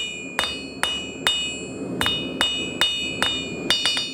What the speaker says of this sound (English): as we're hitting the top of the anvil, or the material, the anvil's hitting the bottom